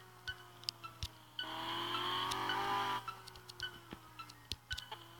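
A stolen car in the Gangstar Vegas video game rolls along with a faint engine tone, a louder surge of tire squeal and revving in the middle, and scattered ticks and clicks around it, with no speech.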